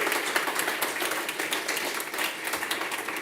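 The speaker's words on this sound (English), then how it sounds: "You can all just do a round of applause even though they're not here." An audience at an antitrust talk breaking into a round of applause, a dense, lively clatter of many hands that stays strong and even for several seconds with no voices over it.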